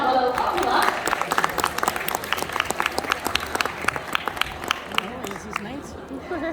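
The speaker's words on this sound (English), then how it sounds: "you can have a little clap for that" An audience claps at an outdoor bird show, a dense burst of many hands that is loudest at the start, then thins into scattered claps over a broad crowd murmur.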